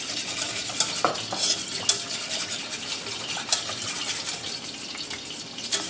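Flour being whisked into a butter, half-and-half and bouillon sauce in a pan for a Belgian endive casserole: steady close scraping and swishing with light clinks of the whisk against the pan, no talking.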